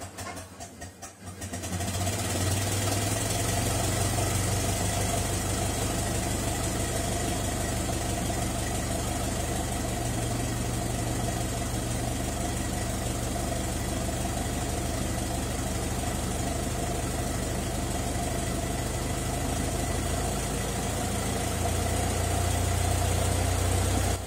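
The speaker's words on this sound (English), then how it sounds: "Start the car and bring the revs up." Ford Model T engine cranks and catches after a second, then settles into a loud, steady mid-pitched running drone with a rough vibrating hum, the revs lifting slightly near the end; no talking.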